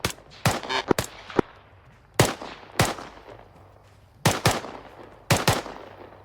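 Sharp, loud gunshots from an ARMA 3 military battle, coming as single cracks and short bursts spread across the clip, with reverberant tails between them and no talk.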